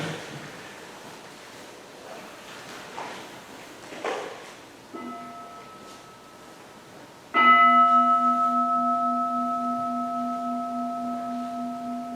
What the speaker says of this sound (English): let us listen to the sound of the bell to go to the next chapter